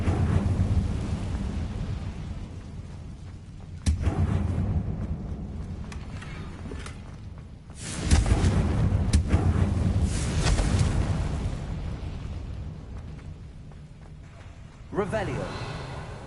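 Confringo blasting spells go off in Hogwarts Legacy as three heavy, rumbling explosions, each a sudden loud boom that fades slowly into a dense background of game sound and ambience.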